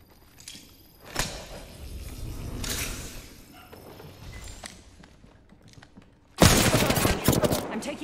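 Gunfire in Apex Legends comes in scattered single cracks and short bursts, then a dense, loud rapid volley erupts near the end, amid game movement noise with no voices.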